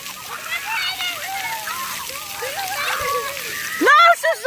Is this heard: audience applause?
no